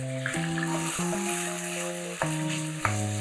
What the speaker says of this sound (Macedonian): Брзо промешајте, бидејќи пестото може да ви се залепи.